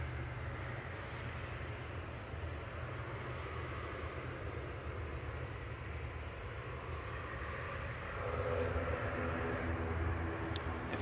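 Virgin Airbus A350-1000 airliner arriving at Manchester Airport from Orlando, a faint distant engine rumble that swells slightly near the end.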